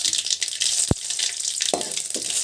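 Mustard seeds, urad dal and curry leaves sizzle in hot oil as a tempering for a carrot fry, a steady soft hiss broken by one sharp pop and a few fainter crackles.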